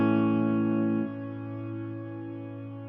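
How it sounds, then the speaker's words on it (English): A guitar tone runs through a Fractal cloud-style ambient reverb, sustaining a smooth, washed-out chord that swells and then settles into a lingering, spacious tail, heard alone. "we also have these deep space or cloud-based reverbs"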